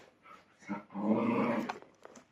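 Two dogs scuffling on a sofa give a short burst of growling that swells for about a second and then fades, faint and close, with no talk.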